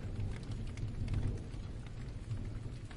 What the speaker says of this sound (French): tu peux profiter encore du bruit de la pluie pendant quelques minutes.